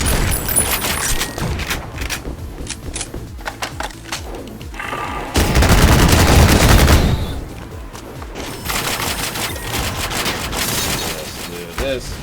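Gunfire in the retro shooter Ion Fury, bursts of shots and booming blasts mixed with game noise, loud and close, a voice talking over parts of it.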